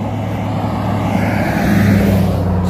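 A truck passes by a park, a steady low engine rumble with a droning hum that swells slightly toward the middle before easing off, fairly loud and continuous throughout with no talking.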